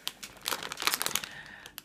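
A large bag of Nescafé 3-in-1 creamy coffee sachets crinkles and rustles in quick irregular bursts as it is handled up close, with no talking.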